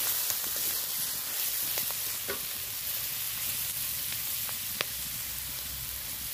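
Soaked chickpeas fry in oil with ginger and turmeric, giving a steady, close hiss of sizzling with a few faint spatters and taps, no voices.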